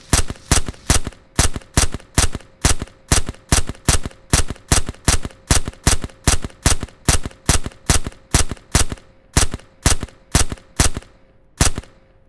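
Gunfire in SurrounDead, a long run of loud, evenly spaced single shots at roughly two per second, each sharp crack followed by a brief tail, continuing for about twenty rounds before ending with one last shot after a short pause.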